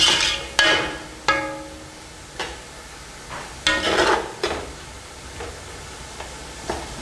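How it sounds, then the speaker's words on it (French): A home cook adds a little water to vegetables simmering in a pot, giving a series of sharp clinks and splashy bursts separated by quieter stretches. "Nous allons mettre un peu d'eau pour permettre à ce que les légumes puissent bien cuire."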